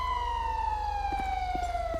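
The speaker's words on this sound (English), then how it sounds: "turn off the freaking siren" A police car siren in the video game GTA V with the LSPDFR patrol mod, a loud steady wail slowly dropping in pitch over a low rhythmic engine hum, close and alone for two seconds.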